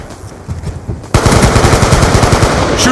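Gunfire in Call of Duty Ghosts: a few scattered shots, then a sudden loud burst of rapid automatic machine-gun fire that runs continuously for the last two seconds, close and dominant, with no talking.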